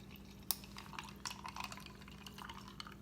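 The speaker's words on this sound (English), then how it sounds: "I'm going to pour the coffee in there." Cold brew coffee is poured into a cup over ice, a faint trickle broken by a few sharp clinks of ice and glass, quiet and close with no voices.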